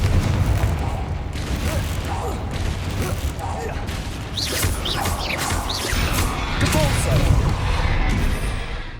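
Repeated explosive spell blasts from Confringo in Hogwarts Legacy, a series of bursts and crashes mixed with combat clatter and whooshing effects over a rumbling background, with a voice talking throughout.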